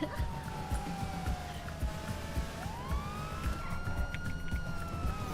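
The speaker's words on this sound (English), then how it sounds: "Listen for the sirens" A wailing police siren in a video game sweeps up and down over a rumbling engine and ambient game noise, moderately loud and continuous throughout, with no speech.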